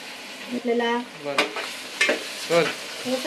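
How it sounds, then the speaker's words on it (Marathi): Onion fries in oil in a pan for biryani, with a soft sizzle under intermittent scraping stirs from a utensil that give short ringing, squeaky strokes. "कांदा फ्राय करायला घेतले"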